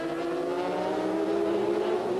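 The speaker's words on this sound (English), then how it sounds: "So a real flat-out beginning to this long endurance race." Racing motorcycles roar flat-out at the start of the 1999 Bol d'Or endurance race, a loud continuous engine howl at steady high revs with no gaps.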